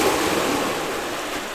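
A broad, steady wash of surf hisses and rumbles continuously, the roar of waves breaking on a shore, loud and close and gradually easing slightly.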